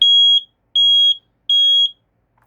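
A FireX I4618AC smoke detector sounds during a test: three loud, piercing electronic beeps, each about half a second long, evenly spaced with short silent gaps, clear and close with nothing else audible.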